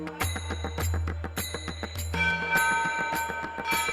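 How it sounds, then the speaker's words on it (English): A bell is struck repeatedly in a steady rhythm, bright ringing tones overlapping and sustaining between strikes. "joining hands in ringing the bell of world peace."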